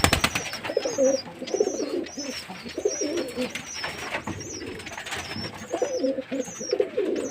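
Pigeon chicks coo in low repeated rolling phrases while pecking at balanced feed, close and steady, with higher squeaky calls from the young birds recurring over the cooing.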